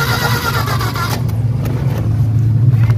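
A Mitsubishi Adventure with a 4G63 gasoline engine cranks on the starter, a loud continuous churning drone that holds steady for the whole few seconds.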